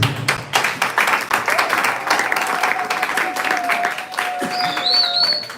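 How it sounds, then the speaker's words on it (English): An audience claps at a graduation closing ceremony: dense, steady applause that carries on throughout, with a thin whistling tone rising near the end. "Can you clap for me, please?"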